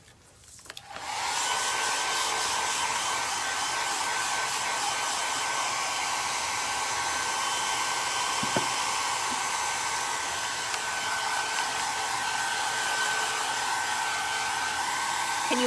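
Hair dryer blowing steadily on a furniture piece to dry a matte milk paint sealer, a loud continuous whir that starts abruptly and runs unbroken, with no talking.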